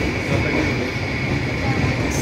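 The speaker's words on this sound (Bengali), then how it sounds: "এখন কিন্তু এই ট্রেন ছেড়ে তার গন্তব্যস্থান কামাখ্যার উদ্দেশ্যে রওনা দিল, আবার এই নিউ জলপাইগুড়ি স্টেশন দিয়ে।" A passenger train bound for Kamakhya pulls out of New Jalpaiguri station, giving a continuous rumbling roar with a steady tonal hum, close and loud throughout.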